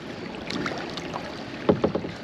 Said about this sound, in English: we should get through this little bitty rapids right here.